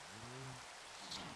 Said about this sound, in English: Wow, this rain really sucks.